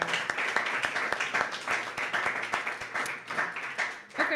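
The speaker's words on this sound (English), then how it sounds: "Clap for yourself." A small audience claps at a live podcast stream, with a few distinct, fairly close hand claps in a loose rhythm over a steady room hum.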